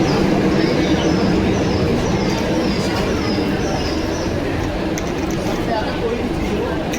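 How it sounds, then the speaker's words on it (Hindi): The Karnataka Sampark Kranti express (Yesvantpur to Hazrat Nizamuddin) pulls into Pune railway station. It makes a steady, loud rolling rumble that fills the whole stretch, with faint station voices underneath. "फाइनली हमारी ट्रेन आ चुकी है और ये आधे घंटा लेट हो गई है।"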